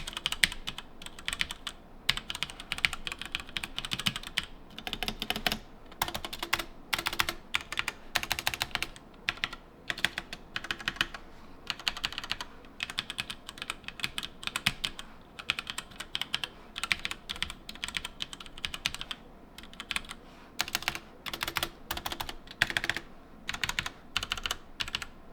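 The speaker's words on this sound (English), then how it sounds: "I'm basically just going to press a bunch of keys." Keys clatter on a Razer BlackWidow Tournament Edition mechanical keyboard in a long, close, continuous burst of fast, irregular clicky typing with brief pauses and no voices.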